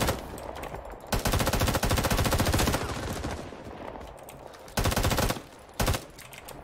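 Rapid bursts of automatic rifle and machine-gun fire crackle in the Vietnam War shooter Rising Storm 2, loud and dense, with several sharp sustained volleys and brief lulls between them.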